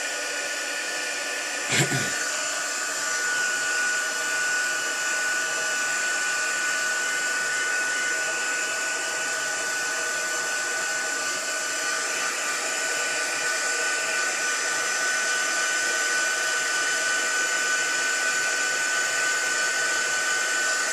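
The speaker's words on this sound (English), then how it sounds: "I'm going to turn on my embossing heating tool, so it will get a bit loud." A click, then an embossing heat tool blows with a steady whirring roar that holds evenly for about twenty seconds, close and fairly loud, while gold embossing a card.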